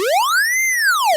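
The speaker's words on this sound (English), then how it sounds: "You can hear the pitch is moving in a sine wave motion with both an upwards and a downwards movement" A single held synthesizer note whose pitch is modulated by a slow sine LFO, sweeping smoothly up to a peak and back down in one arc; bright, clean, harmonic-rich tone, loud and alone.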